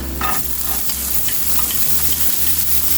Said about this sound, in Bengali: এ পর্যায়ে আমি দিব গাজর কুচি